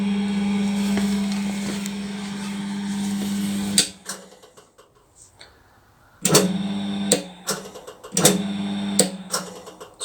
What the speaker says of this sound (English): So we can hear the motor going,